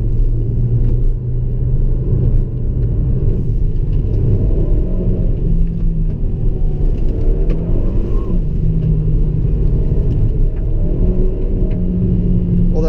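A steady low engine rumble and whir inside a 2016 Hyundai Veloster Turbo as it accelerates, droning evenly throughout with no voices.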